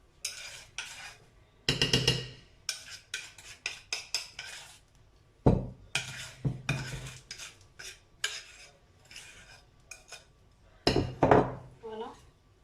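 A spoon clinks and scrapes around a bowl while mixing room-temperature pastry cream for a homemade galette des rois, with irregular bursts of tapping and stirring, fairly close, and scattered pauses between strokes.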